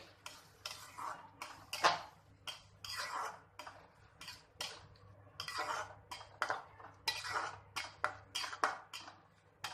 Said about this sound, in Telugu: కొద్దిసేపు మనము ఈ పోపులో ఈ పచ్చడి అంతా బాగా మిక్స్ చేసేసుకుందామండి